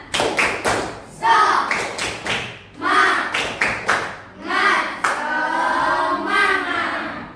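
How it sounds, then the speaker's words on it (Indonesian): A class of children performs a rhythmic clapping chant, sharp bursts of claps alternating with chanted voices in a repeating pattern, loud and close in a classroom. "Tepuk semangat."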